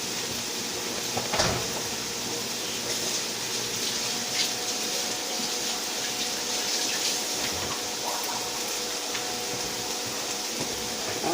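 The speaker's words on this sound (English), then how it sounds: "Let me rinse my hands off." A kitchen tap runs steadily as hands are rinsed during chili making, a continuous soft water hiss with a brief knock near the start and no voices.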